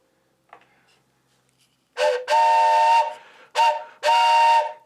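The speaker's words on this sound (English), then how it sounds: "But this is 4 little whistles together, train whistle" An old train whistle aerophone made of four small whistles sounded together blows several loud, chord-like blasts, two short and two longer, after a quiet start.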